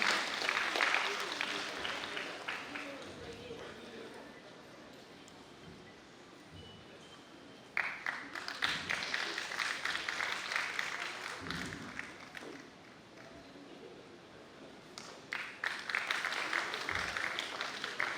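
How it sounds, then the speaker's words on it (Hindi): An audience at a women's participation program in Ranchi, Jharkhand, claps for Dr. Shobha Vijender in distant, roomy waves that swell, fade and return in fresh bursts. "आदरणीय डॉक्टर शोभा विजेंद्र जी के लिए जोरदार तालियां एक बार"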